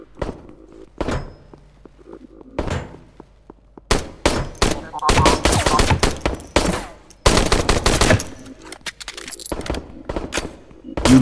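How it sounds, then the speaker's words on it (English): Repeated bursts of gunfire in the video game HOLE, including rapid machine-gun style volleys and heavy thumping shots, loud and close, coming in clusters with short gaps of quieter ambience between them. "Someone's trying to shoot me."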